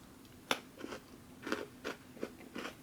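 Crunchy reconstituted freeze-dried banana being bitten and chewed close up, several short crisp crunches spaced about half a second apart, quiet and alone.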